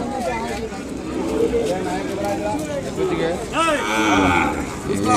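Calves mooing at a busy Ongole cattle market in Kodada, several drawn-out low calls rising over a steady crowd murmur, with people talking nearby throughout.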